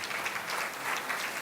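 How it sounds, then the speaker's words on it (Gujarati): Strong applause from an audience at a book launch ceremony, a brief, dense burst of clapping with slight swells, heard alone without talking. "નરેશભાઈને ખૂબ જોરદાર તાળીઓના ગડગડાટથી આપણે"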